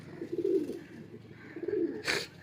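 Pigeons at a loft coo in two soft, low throaty phrases close by, followed by a brief sharp rustle or flutter.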